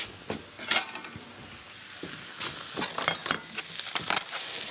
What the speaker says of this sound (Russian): Теперь тарелка.